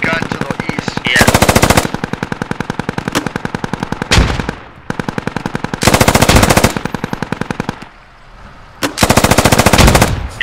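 In the military shooter Squad, long bursts of automatic machine gun fire rip out close and loud, several sustained strings of rapid shots separated by brief pauses, with occasional voices in the background.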